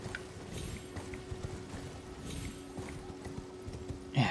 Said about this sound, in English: Whoop, come on, horsey.